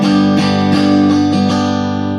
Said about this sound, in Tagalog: Mid tsaka bridge pickup, tone.